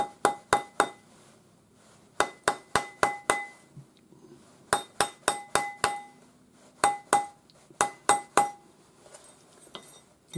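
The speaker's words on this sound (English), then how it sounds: "we just need to be able to hammer it without the ends overlapping each other" Clusters of sharp metallic hammer strikes on a ring shaped over a steel ring mandrel, an early Navajo-style adjustable ring, ringing bright and close in quick bursts of four to six blows separated by short pauses.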